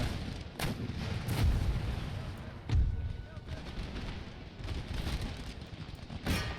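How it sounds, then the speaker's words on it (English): Artillery fire in the video game Empire Total War, a series of booming cannon blasts and cracks spread across the battle, sounding under continuous talk. "we'll keep our artillery focused on"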